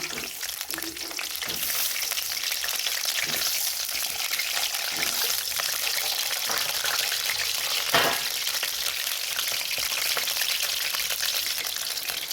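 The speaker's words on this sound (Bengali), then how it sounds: "আলু কটা ভালো করে ভেজে নিব।" Potatoes fry in a pan for a Sunday mutton curry, giving a steady, loud broadband sizzle throughout with a few brief clicks of stirring and no talk.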